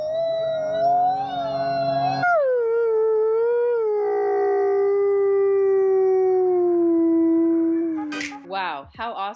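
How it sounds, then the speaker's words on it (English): Wolves howl in long, sliding tones that overlap and drop slowly in pitch, loud and sustained, ending in a few short yips. "Let's go ahead and listen to some of that howling now."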